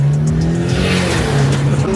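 A Mercedes racing by with its engine revving hard, loud and close, a steady roaring drone with shifting pitch and hints of tire squeal throughout, no voices.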